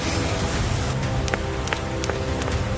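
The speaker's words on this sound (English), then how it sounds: "It starts to rain, and Peppa and George watch the drops roll down the window like tiny mirrors" Cartoon rain falls against a window, a steady dense patter with a few brighter individual drops tapping near and clear, no voices.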